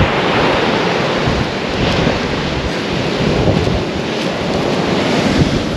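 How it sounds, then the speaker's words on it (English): Heavy sea swell breaks near a cliff on the Tunstall east coast, making a continuous loud, broadband roar mixed with wind buffeting the microphone, with no speech. "Look at the swells. Look at them big fellas."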